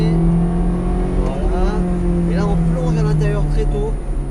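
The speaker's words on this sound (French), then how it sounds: "Et on accélère un peu." A Ferrari F430 Scuderia accelerates on a race track, its engine tone climbing steadily and loud from up close inside the car, with an instructor talking over it.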